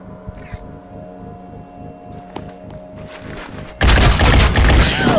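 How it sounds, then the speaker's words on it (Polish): Quiet ambience in the strategy game Phoenix Point with a few faint taps, then a sudden loud burst of gunfire erupts near the end and keeps going. "pani lekarz może jeszcze oddać strzał"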